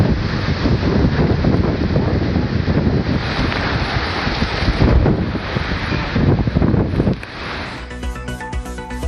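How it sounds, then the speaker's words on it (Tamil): Strong dusty wind gusting through Ayothiyapattinam near Ammapettai in Salem district, a loud, roaring broadband rush with buffeting microphone noise, continuous before easing slightly near the end. "அயோத்தியாபட்டினம் பகுதியில் வீசிய புழுதி காற்றால் அவதிக்குள்ளான மக்கள்"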